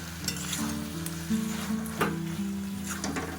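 Cabbage mixture for a vegetarian paturi sizzles in a pan under steady stirring, with a low continuous frying hiss and brief scraping accents; close and moderately quiet, without speech.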